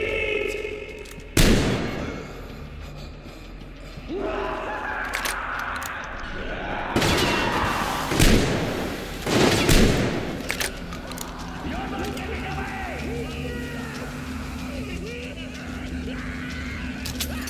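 Gunfire in the video game Metro Exodus, sharp loud bursts scattered across the clip amid steady background game noise, with a voice talking over parts of it.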